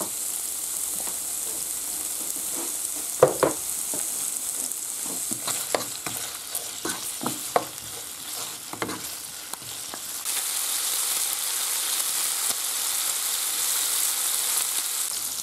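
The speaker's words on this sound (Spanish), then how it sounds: "y a seguir friendo" Loud, continuous sizzling of food frying in oil, with clinks and scraping of stirring in the middle before the hiss swells again.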